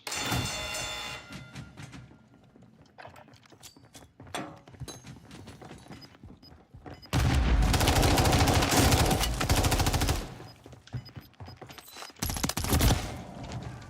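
Fennec submachine gun firing in a video game: several rapid bursts of automatic fire separated by quieter gaps, the longest and loudest spray coming near the end, with no talking.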